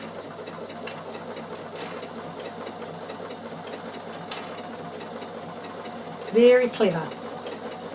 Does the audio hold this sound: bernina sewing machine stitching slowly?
yes